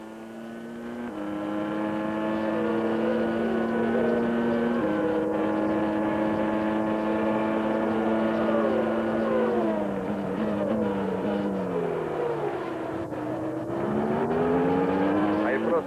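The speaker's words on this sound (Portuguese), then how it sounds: "E o Andretti agora que tenta pegar o vácuo ali do carro de Prost" Formula 1 cars racing at the 1993 Italian Grand Prix at Monza, their high-pitched engines wailing steadily and loud throughout, with pitch sweeps as cars pass and shift through the chicanes.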